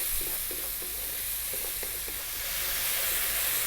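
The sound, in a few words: tomatoes with cumin and chili powder cooking down in pan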